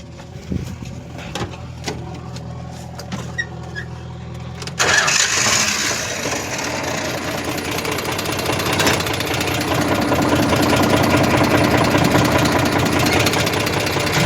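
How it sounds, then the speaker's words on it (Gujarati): A tractor and a JCB backhoe rumble and clatter steadily on a farm, growing louder partway through, with a dense mechanical roar dominating the rest of the clip. "આપણે આ ટ્રેક્ટર લેવા આવી ગયા છીએ અને જીસીબી પણ હાલે છે"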